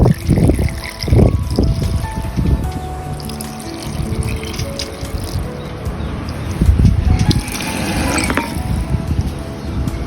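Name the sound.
pouring wine and rum over fruit for Jamaican black cake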